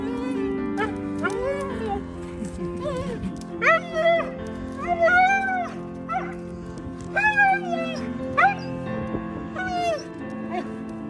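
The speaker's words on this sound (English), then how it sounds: "just watch the dog's ecstatic reaction when they're finally reunited once again" A small dog reunited with its owner after a separation from Ukraine, giving repeated high excited whimpers and yips close by, mixed with emotional human voices and background talk.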